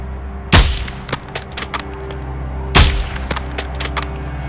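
Two sharp, loud gunshots about two seconds apart ring out in the Modern Warfare 2 campaign, each followed by a brief echoing tail, with lighter clicks and combat clatter in between.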